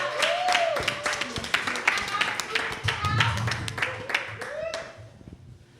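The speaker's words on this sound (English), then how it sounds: "let's hear another round of applause for the 4 of them" Audience applause for four musicians at a panel event on peace and Pan-African coalitions, sustained lively clapping from a crowd with a few cheers or calls mixed in, tapering off at the end.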